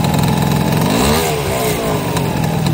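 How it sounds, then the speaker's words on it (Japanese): A Honda Super Dio ZX scooter with a 71cc engine revs loudly up close, its buzzing tone climbing and then settling back over a sustained, unbroken engine drone. "71cc のエンジン"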